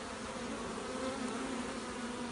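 Wild bees buzz steadily at an active live hive inside a tree, a continuous faint drone holding a constant pitch with no other sounds.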